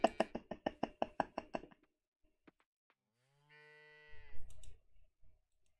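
A cow in the farming game Coral Island gives one short, close moo after a quick run of sharp knocking taps, and a soft rustle follows.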